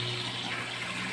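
A 40 watt pond pump pushes water in a steady, hissing rush of flowing and splashing water, continuous and moderately quiet throughout the short moment, with no talking.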